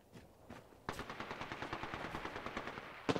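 Rapid automatic weapon fire in Apex Legends, a long, evenly spaced burst of shots after a couple of isolated single shots, with a fresh burst starting right at the end, loud and with no voices over it.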